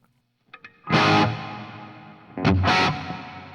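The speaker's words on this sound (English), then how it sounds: "now let's turn on the reverb" Electric guitar plays through a Marshall JMP recreation with reverb on, a couple of muted picks then two loud distorted chords ringing out with a reverberant tail.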